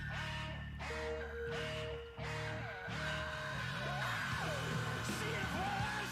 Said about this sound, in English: someone like metal screams, into a mic with distortion turned up to 11